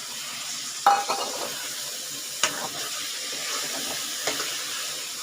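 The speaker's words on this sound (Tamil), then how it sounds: "இப்போ இதுவும் ஒரு ரெண்டு நிமிஷம் வதங்கட்டும்" Tomato puree frying with chicken and masala in a pan for chicken kurma: a steady sizzle runs throughout, broken by a sharp utensil scrape near the start and a few softer stirring knocks later, with no talking.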